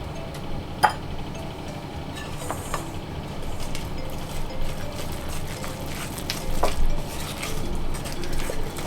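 Oat batter for Swedish havreflarn being stirred in a bowl, a steady scraping and clinking of the spoon against the dish with soft wet sloshing, close and moderately quiet throughout.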